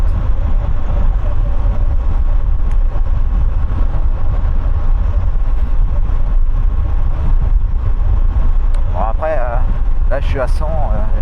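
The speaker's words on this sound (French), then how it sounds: "C'est mon casque aussi qui est très bruyant." Steady loud roar of wind and engine inside a noisy helmet on a Moto Guzzi V85 TT motorcycle at speed with the visor open, continuous throughout with someone talking over it.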